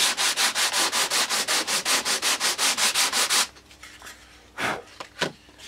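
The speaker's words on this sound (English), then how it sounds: "I don't sand so much that all the soot disappears, just enough to make it straight." Hand sanding along the edge of a sooty wooden table makes rapid, regular rasping strokes, loud and close, then stops and leaves a few scattered scuffs and handling noises.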